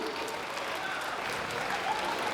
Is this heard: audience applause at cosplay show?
yes